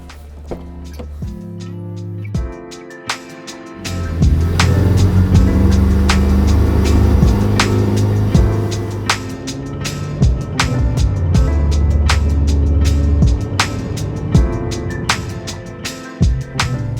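Ferrari F8 Tributo driven on the Albert Park racetrack, its engine surging and droning loudly with shifts and rising revs, alone without talk.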